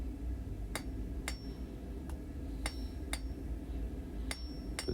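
Blacksmith hammering a hot round bar while forging a spade hook: several sharp, ringing hammer strikes at irregular intervals, fairly faint over a low background hum.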